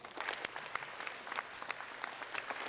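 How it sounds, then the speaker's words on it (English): Graduating high school seniors applauding their families at a senior awards ceremony, a steady ripple of crowd clapping heard from a moderate distance, dense and continuous without a break. "give them a big round of applause"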